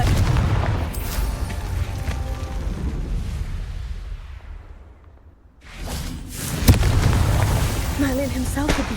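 Confringo blasting spells in Hogwarts Legacy burst into booming explosions with whooshing swells, one blast fading into a brief lull before another loud, crackling eruption and impacts close by.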